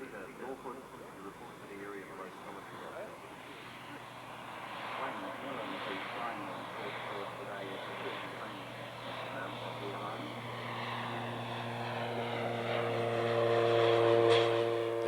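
A Turbo Porter aircraft fitted with skis makes slow low passes at an air show in Wanaka, New Zealand, its turbine and propeller drone steady then swelling louder near the end, under a commentator's voice.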